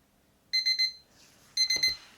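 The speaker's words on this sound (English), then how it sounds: "And then there's your alarm." A small mechanical wind-up kitchen timer rings twice in short, bright metallic bursts, each a rapid rattling trill, separated by a pause with a faint click and handling noise between them.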